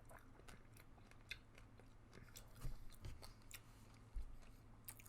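Close-up crunching and biting on red seeded grapes, a quiet run of sharp crisp clicks and chews with a few firmer bites, no talking.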